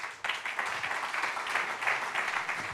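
Audience at a Club Marseille Métropole anniversary evening at a palace venue applauding to welcome the head of the Grand Port Maritime de Marseille, a sustained burst of many hands clapping throughout, fairly close and loud.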